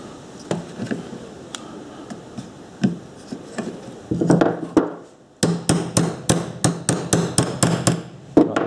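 Metal-on-metal hammer taps drive a pin out of a Stihl 251c chainsaw, first as scattered strikes, then a steady run of evenly spaced, ringing blows close by.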